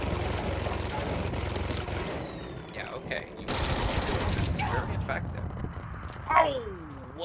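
Rapid gunfire from the video game Control peppers a target in dense bursts amid layered combat effects, with an in-game voice breaking through late.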